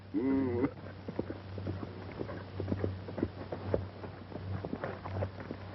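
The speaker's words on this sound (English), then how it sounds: "He's a great horse, Morgan." A racehorse being timed over six furlongs on a track gallops with rapid, rhythmic hoofbeats, steady thuds at moderate distance after a brief tonal cry at the start.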